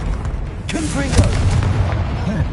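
A Confringo blasting spell explodes in Hogwarts Legacy with a couple of muffled booms that are partly masked by someone talking over them.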